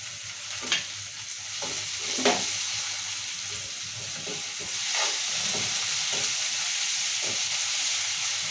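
Green chilies sizzling and softening in hot oil alongside onions for a bottle gourd curry, a steady close frying hiss with occasional stirring scrapes.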